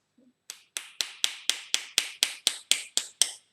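While a pen is being turned and disassembled, a punch is tapped to knock out the pen tip: about eleven sharp, evenly spaced close knocks, each cracking bright and decaying quickly, with a faint soft sound beforehand.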